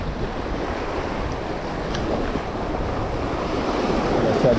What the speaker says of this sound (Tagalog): Masyadong malakas ang alon ngayon mga master.